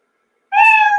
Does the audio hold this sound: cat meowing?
yes